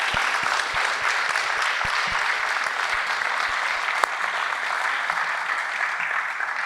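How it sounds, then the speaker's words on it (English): Loud, sustained applause from an audience at a community awards event, dense clapping that holds at an even level throughout with one sharper crack partway through and no speech. "Can you give them a round of applause?"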